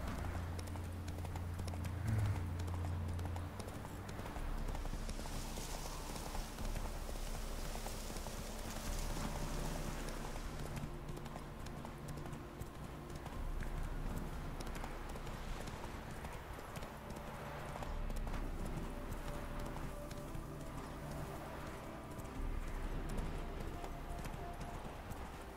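Horse hooves in The Witcher 3 clip-clop at a trot, a steady soft rhythm that continues for the whole stretch over a low background hum.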